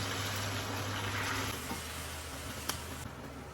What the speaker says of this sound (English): Now I'm going to add the pineapple juice.